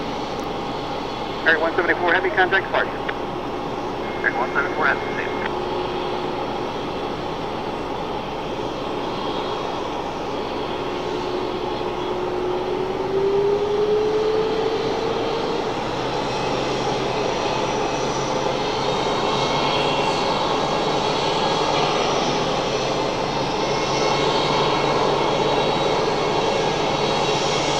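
Distant airliner taking off at Raleigh-Durham airport, a long steady jet engine rumble that gradually swells, with radio chatter from air traffic control over the top near the start and later.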